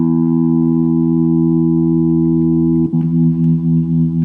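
A sustained electric guitar chord through a Fender Mustang I amp's '59 Bassman model, ringing steadily, then a fresh strum changes the tone near the end, warm and full.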